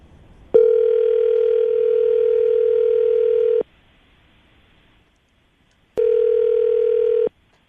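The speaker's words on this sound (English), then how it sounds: "I'm going to dial the phone over right now, see if we can get her on the phone" A telephone dial tone hums steadily for about three seconds, cuts off, then returns briefly after a pause, loud and clean with no talking over it.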